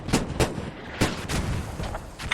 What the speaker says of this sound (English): mortars on both sides